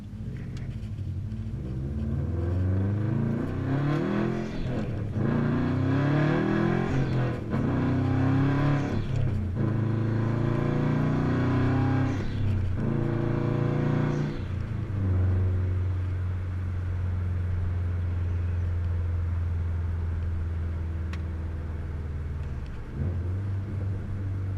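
Cabin view of a 2017 Subaru STi fitted with an ETS Extreme exhaust: loud droning engine with several rising revs and gear shifts as the car accelerates, then settling into a steady deep boom while cruising.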